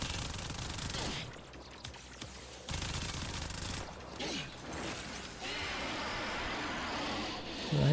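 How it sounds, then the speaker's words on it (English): Gunfire in the Warframe video game: dense bursts of rapid shots and crackling impacts with mechanical clatter, loud and continuous apart from a couple of short pauses. "Okay, let me shoot you."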